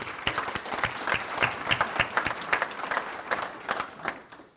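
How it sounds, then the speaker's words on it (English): An audience at an awards luncheon claps for an honoree, individual hand claps standing out in a lively, uneven patter that holds steady before fading at the close. "So big round of applause for Ronny Pryor."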